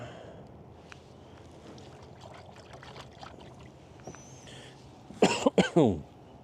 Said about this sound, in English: I'm gonna blow out your eardrums, me coughing and hacking today.